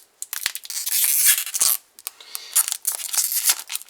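Pokémon XY Generations booster packs torn open by hand, a run of loud, close ripping and crinkling bursts with short pauses between pulls, no talking.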